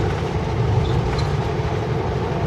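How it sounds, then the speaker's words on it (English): A train rolls along tracks next to a parking spot, a steady, fairly loud low rumble with rattling wagon noise and no horn. "I don't mind the train track, but the blasting of the horn at the intersection"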